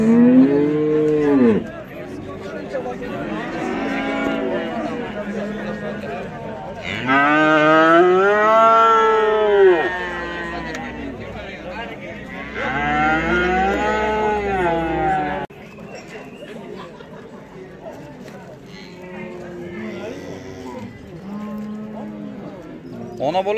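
A young bull lows at a livestock market, three long, loud, drawn-out moos close by, separated by brief gaps filled with low market bustle.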